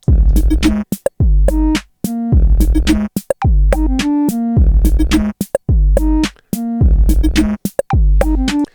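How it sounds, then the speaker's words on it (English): Punchy kick drum hits tuned to different pitches, fired in a quick repeating pattern, booming low thumps with short tonal tails, loud and dry with no talk. "All the different instances of the kick sample that I used in this beat sound like this"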